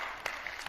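Audience applause for a newly graduated college student, a short burst of steady clapping with a few sharper claps standing out, fairly loud and without talk.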